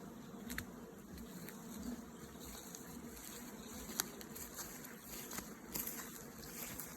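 A honeybee swarm hums steadily at a hive catcher, a continuous close buzz with individual bees zipping past, with no talk.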